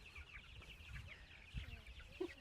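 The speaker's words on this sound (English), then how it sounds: "So here's the chicken." Young Color Yield Ranger chickens on a small homestead farm cluck and murmur softly in a group, quiet scattered calls with one brief sharper note near the end, and no talk over them.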